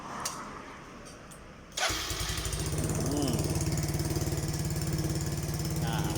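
A Yamaha Mio scooter with a hard-starting fault and a poor idle starts after a brief cranking, then settles into a close, steady, buzzing idle with rhythmic pulsing exhaust, heard alone without talk.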